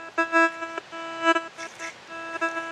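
Whites MXT metal detector giving target signals while searching ground that holds zinc, a ring and bullet shells: a few steady electronic tones, with short bursts and chirps between them over faint background hiss, fairly close, with no talk.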